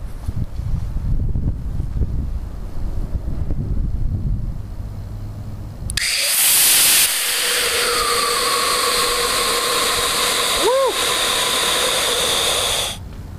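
A small model rocket motor ignites on a homemade Arduino thrust test stand, roaring as a loud, steady hiss for about seven seconds before cutting off, with quiet background noise beforehand.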